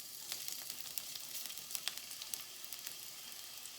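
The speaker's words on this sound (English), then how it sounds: "Now the oil is ready. It's hot. I will add first the garlic," Garlic sizzling in hot oil in a pan while bitter gourd (ampalaya) is being cooked, a steady bright crackle with scattered sharp pops, fairly quiet and with no voices.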